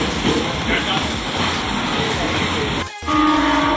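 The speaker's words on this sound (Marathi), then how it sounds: "तर मग आता तुम्ही बघू शकता फास्ट गाडी आपल्याला भेटलेली आहे." A Mumbai local fast train runs at speed with a loud, steady rumble and rattle of wagons close by. A brief drop near the end is followed by a tonal horn-like sound.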